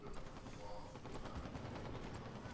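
Enemy fire crackles in a capture-the-flag video game as fairly faint, continuous rapid bursts of automatic shots mixed with other battle noise, with a low steady rumble underneath.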